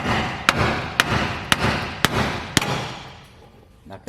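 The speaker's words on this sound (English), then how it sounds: "Take a hammer." Five sharp metallic hammer strikes knocking out a bolt during steering work on a Chevy K5 Blazer, at a steady, roughly half-second rhythm, each ringing briefly, followed by quieter shop noise.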